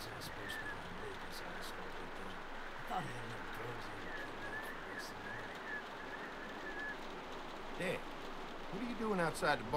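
Rain falls steadily outside a barn in The Walking Dead game, a soft, constant patter at low level with a few faint bird-like coos and clicks scattered through it.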